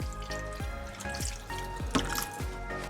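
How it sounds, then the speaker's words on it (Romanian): Water poured over a roast in a pan to make sauce, heard as a few distinct drips and splashes at an irregular beat, faint and close, with no talk. "Voi mai pune puțină apă pentru că am nevoie la sos."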